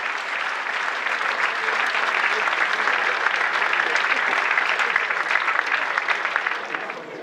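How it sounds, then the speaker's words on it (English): An audience at a football club fans forum gives a sustained round of applause, an even wash of many hands clapping that stays loud before easing slightly at the end. "let's have a big thank you. Round of applause, Paul Warne, Stephen Pearce."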